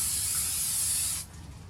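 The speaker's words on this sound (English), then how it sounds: "hold your pastel up at an angle like so, and then spray" An aerosol can of fixative sprays a light coat over a pastel painting held at an angle, giving a steady, close hiss for just over a second before it cuts off to a quiet room tone.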